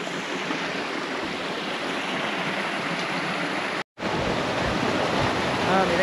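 A mountain river near the Cebollón and the Alfarja ravine runs with a loud, steady rushing wash close by, continuous apart from a brief dropout midway, with no one speaking.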